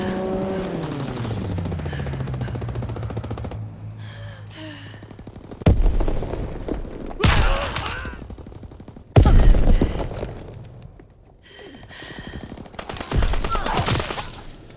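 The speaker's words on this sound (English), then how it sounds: "Enemy strafing run incoming!" Aircraft strafing gunfire in the Call of Duty WWII video game, loud bursts of rapid shots and impacts arriving in several waves, layered over engine rumble and ambient battlefield noise.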